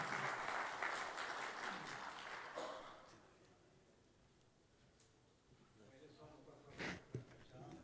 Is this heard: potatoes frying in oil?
no